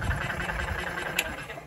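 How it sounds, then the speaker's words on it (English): A self pump-out marine toilet pump on a narrowboat running to empty itself: a steady, moderately loud mechanical whir with a low churning rumble, continuous and alone. "Let the pump run for a second so it just empties itself out."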